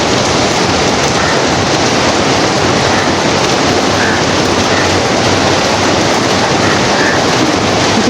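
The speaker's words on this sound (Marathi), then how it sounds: "किती जोरात येतो बघा पाऊस." Heavy rain pours down in a dense, constant roar, loud and unbroken throughout with no pauses or voices.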